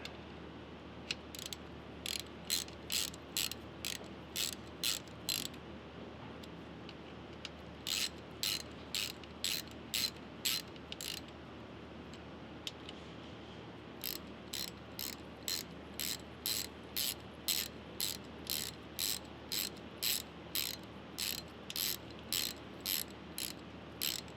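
Ratchet wrench tightening transfer case mount bolts on a Wagoneer, a close, steady run of fast metallic clicks in several bursts separated by short pauses.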